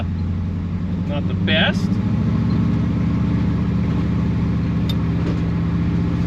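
A 1966 Chevy Biscayne's engine rumbling steadily while driving, a low continuous drone with a brief rise around the second mark and someone speaking briefly over it.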